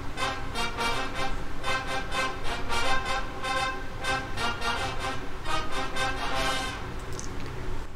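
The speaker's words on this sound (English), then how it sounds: "So MIDI channel 1 is the staccatos and MIDI channel 2 is the falls" Sampled VST horns played back in the OpenMPT tracker, mixing short staccato hits with falling notes in a quick, funky rhythm of bright, repeated brassy stabs.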